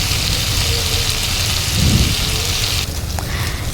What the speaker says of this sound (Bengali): তারপর 5-7 মিনিট ধরে এই আলু আর কচুটাকে ভেজে নিতে হবে, যতক্ষণ না আলু কচুটা লাল লাল হচ্ছে